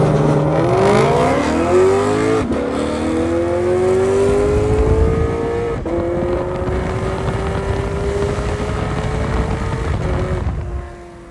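A Lexus RC F V8 accelerates hard at full throttle, a loud, close engine note climbing steadily in pitch through several gears with brief dips at each upshift, under wind buffeting and with no talk.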